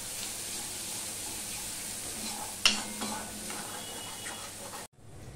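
Spice paste fries in oil with tomatoes, sizzling steadily while being stirred, one clear clink of a utensil partway through, then the sound cuts off abruptly.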